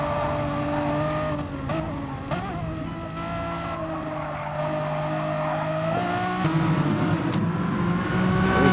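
Race cars in a racing video game run flat out down the long straight at Mount Panorama, a steady loud engine drone with sustained tonal whine and slight pitch shifts as gears change, building slightly louder toward the end.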